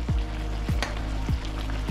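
Fish sizzles loudly in a pan for Jamaican brown stew fish, a dense continuous frying crackle broken by a few regular low thumps roughly every half second.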